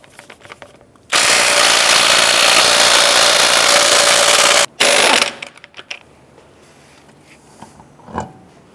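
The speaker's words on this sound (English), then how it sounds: "Using a 22mm socket, we're going to go ahead and remove the lug nuts and take the wheel off the vehicle." A loud pneumatic impact tool with a 22mm socket buzzes continuously for several seconds removing wheel lug nuts from a 2004-2009 Dodge Durango, stops briefly, buzzes again, then gives way to clinks and light handling noises.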